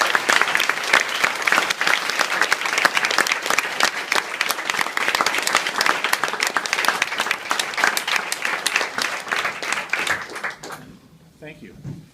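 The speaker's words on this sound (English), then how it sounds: "can we give these nice folks another round of applause?" An audience at a Q&A event on San Juan Island breaks into dense, sustained applause, loud and steady for about ten seconds before quickly dying away.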